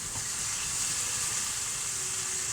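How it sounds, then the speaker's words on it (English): Bacon frying in a pan alongside chicken legs, a loud, continuous close-up sizzle with a bright hiss that stays even throughout and has no voice over it. "we're just going to get that bacon mixed in, and I want it frying"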